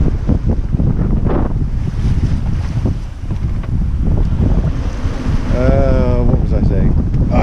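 Steady heavy wind roars across the microphone while waves wash against the hull of a sailing yacht reefed to the third reef in shifting wind, loud and continuous, with a brief whistling tone near the end.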